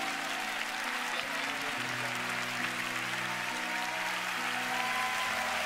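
An audience applauds to welcome Professor Doug Petersen, a steady wash of clapping under sustained low musical tones, moderately loud and unbroken.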